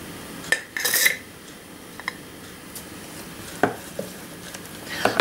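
A spoon stirs sugar into a bright pink fermented baked milk (ryazhenka) cocktail in a glass, giving a few scattered clinks and taps against the sides, with quiet gaps between them and no talking.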